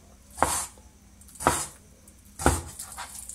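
A knife cuts raw chicken into cubes on a board, giving three separate, evenly spaced chops about a second apart, each a sharp thud close up with quiet between.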